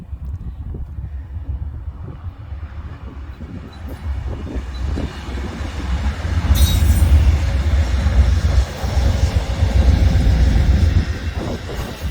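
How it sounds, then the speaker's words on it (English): Amtrak passenger train passing near a park and campground in Zurich, Montana, a loud continuous rumble and rolling clatter of rail cars that swells midway and stays strong, with no talk. "here comes Amtrak"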